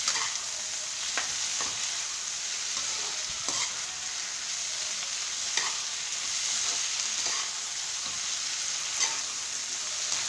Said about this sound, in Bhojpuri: ये देखल जा प्याज थोड़ा भुन गई बा।